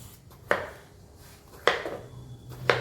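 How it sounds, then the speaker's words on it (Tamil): A knife chops ridge gourd into large pieces on a board, three sharp, distinct thuds spaced about a second apart, close and clear against quiet kitchen background. "இதை கொஞ்சம் பெரிய பெரிய பீசஸாக கட் பண்ணி எடுத்துக்கலாம்"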